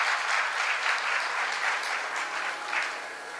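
An audience at a devotional spiritual talk claps continuously and evenly, a dense, fairly loud applause that fades slightly toward the end.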